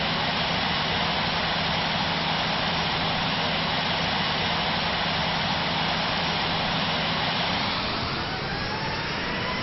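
A Hawaiian Air Boeing 717 in the Infinite Flight game taxiing to parking at Honolulu, its steady loud jet engine roar sustained throughout with a slight shift in tone near the end, no talk.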